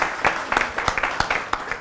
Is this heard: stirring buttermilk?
no